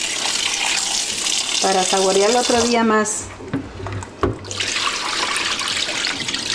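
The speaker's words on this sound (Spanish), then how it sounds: "Aquí la vamos a lavar otra lavadita más, porque esto sí huele muy fuerte" Water runs from a tap into a sink while tripe for Guerrero-style menudo is washed under hot water, a steady splashing wash that continues under a person speaking, with a brief break in the middle.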